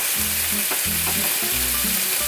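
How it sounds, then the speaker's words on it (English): Strips of bacon frying in a pan give a constant dense sizzle and crackle, close and fairly loud throughout, with no voices. "And then we got a bacon going here."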